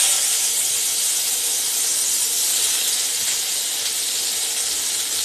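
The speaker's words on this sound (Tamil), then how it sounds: "வதக்கிறதுக்கு சும்மா ஒரு 2 சொட்டு எண்ணெய் ஊற்றி அந்த கருவேப்பிலையை போட்டு வதக்குறேன்" Washed, dried curry leaves sizzle in a couple of drops of oil in a pan while pirandai thuvaiyal is cooked, giving a steady, close, bright hiss with no pauses and no talking.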